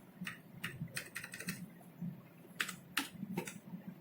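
Typing on a computer keyboard during a coding practical, a sparse run of close, crisp key clicks in short irregular bursts with quiet gaps between.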